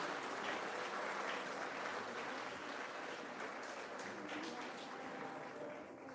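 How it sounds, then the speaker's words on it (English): Sustained audience applause fills an award ceremony for high achievers, a dense steady wash of clapping from a large crowd that slowly tapers toward the end. "give them a big round of applause as they leave the stage"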